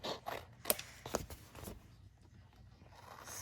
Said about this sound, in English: now what I'm going to do is I'm going to cut these corners